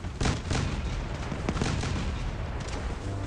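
Cannon fire from a Grizzly weapon in the Crossout mobile vehicle-combat game, a dense, loud run of booming shots and blasts layered over a continuous rumble of battle noise, with no talk.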